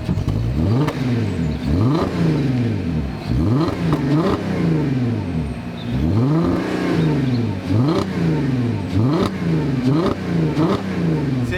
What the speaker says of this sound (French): Très beau bruit aussi le Cayenne, écoutez, il est en train de chauffer aussi.